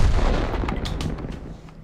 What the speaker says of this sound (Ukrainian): Його зараз пристрілює лише Т-55А